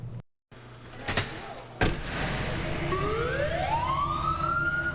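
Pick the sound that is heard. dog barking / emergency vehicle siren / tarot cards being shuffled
emergency vehicle siren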